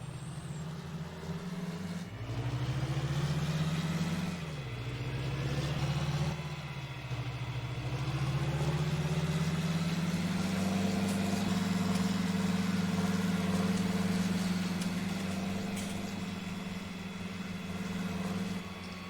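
Tractor engine idling in the Farming Simulator 19 farming game: a steady, moderately loud low diesel rumble with slight pitch shifts as revs rise and settle, continuous with no talk.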